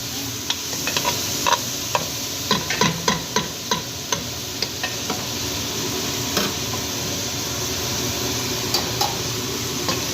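Ingredients sautéing in a pan for a simple biryani, with a continuous sizzling hiss and a series of sharp spoon-against-pan taps and scrapes from stirring in the first half.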